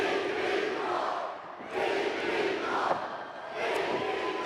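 A packed wrestling arena crowd roaring and chanting before a heavyweight championship main event, loud sustained surges of cheering with a brief dip in the middle before swelling again.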